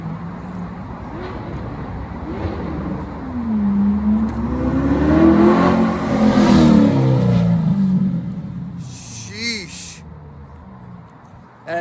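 A stock Chevrolet Corvette C8 revs through an alleyway flyby, its engine note building to a loud peak mid-pass and then fading, with brief voices near the end.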